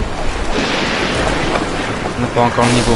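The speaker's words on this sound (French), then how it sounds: "Le vent nous propulse!" Wind and sea noise from sailing a ship in the Assassin's Creed video game, a steady broadband rush with rumbling low end, heard under French speech.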